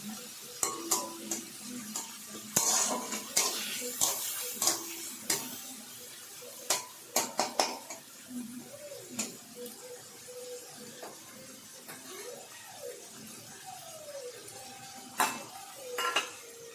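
Grated coconut and red chillies frying in a pan over a medium flame, with a soft sizzle under frequent sharp scrapes and clinks of a metal spatula against the pan, close and intermittent.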